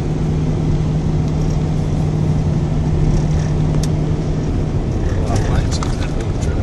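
A car driving along a road, a loud, steady low rumble of engine and road noise close by, continuous throughout, with talking over it.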